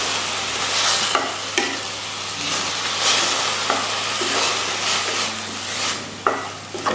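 Full-cream milk stirring into coconut powder in a pan, a continuous soft sizzle and wet scraping from the spoon, with occasional knocks against the pan, close and steady.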